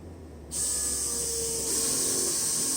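Bosch CPN5 high-pressure fuel pump running at about 800 RPM, a loud sharp hiss that switches on abruptly and holds steady and close, with a faint low hum underneath.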